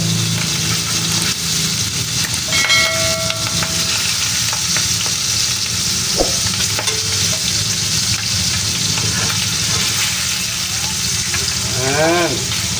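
Loud, steady sizzling of pork liempo frying in a pan of oil, with crackles and brief scraping or stirring sounds over the continuous hiss, heard close.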